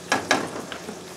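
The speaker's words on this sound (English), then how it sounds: "Our sauce is now boiling." Brief bubbling and sizzling from Thai curry sauce boiling in a hot pan, with a couple of sharper pops near the start over a steady simmer.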